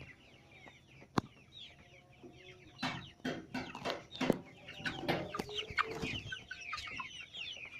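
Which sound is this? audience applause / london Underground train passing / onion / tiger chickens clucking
tiger chickens clucking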